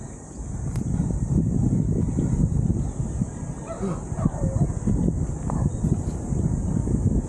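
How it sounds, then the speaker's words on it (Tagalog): Steady wind rushing and buffeting across the microphone on a hillside stair climb in Olongapo City, Philippines, with faint yips or whimpers from a dog somewhere in the background. "Mahangin oh."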